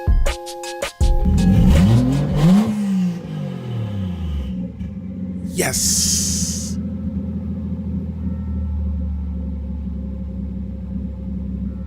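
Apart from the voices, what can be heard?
Toyota 1JZ engine swapped into Lexus GS300 starting and idling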